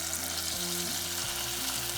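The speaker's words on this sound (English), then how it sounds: "we are now going to fry our meatballs" Meatballs fry in a pan with a steady, even sizzle and crackle, moderately loud and unbroken over a low background hum.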